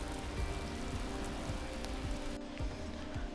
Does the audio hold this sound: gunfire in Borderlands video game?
no